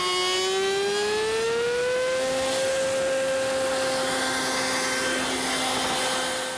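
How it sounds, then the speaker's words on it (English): A router table fitted with a panel raising bit spins up and cuts a tongue on a wooden door panel, giving a loud steady whine with a rising pitch that settles into a constant high drone throughout, with no talking. "I've installed my panel raising bit in the router table, and I'm going to have to make a couple passes"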